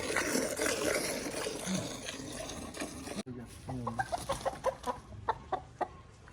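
A farmyard rooster clucks and squawks while being caught and handled, with loud scuffling and flapping up close, then a run of short repeated clucks at a steady rhythm.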